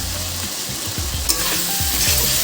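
Slit green chillies and chopped tomato sauté with fish masala in a pan for aar fish kalia, loud bubbling sizzle under repeated scraping spatula strokes, no voices present.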